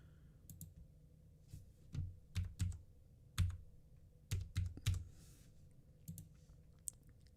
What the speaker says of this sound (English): I got to type in this code here.